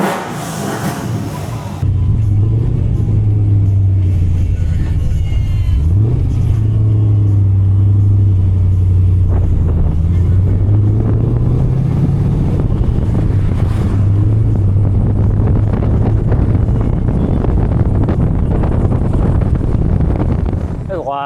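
Supercharged-sounding 480 hp V8 in an NB Miata idling with a lumpy cam, the engine note swelling with a couple of blips and then rumbling on under heavy wind noise as the car pulls away.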